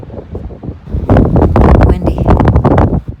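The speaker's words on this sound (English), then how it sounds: "Windy." Gusty wind roars across the microphone near Adishi Glacier in the Georgian mountains, starting moderate and building into a loud, steady buffeting for the last two seconds, with a voice speaking through it.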